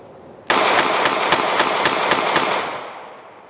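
A Canik METE MC9 pistol fires jacketed hollow point rounds in a rapid string of about eight sharp, loud shots at a steady quick rhythm, each one ringing out before the echo fades.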